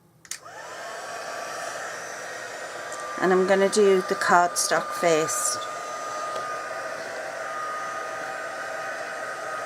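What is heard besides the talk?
heat gun blowing hot air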